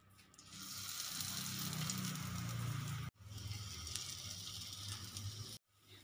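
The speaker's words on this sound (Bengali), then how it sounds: "তেল গরম হয়ে গেছে, আমি বড়াগুলো অল্প ছোট ছোট করে বানিয়ে ভেজে নেব।" Small masoor dal fritters frying in hot oil on a tawa, a steady loud sizzle with crackling, briefly cut off twice as if interrupted.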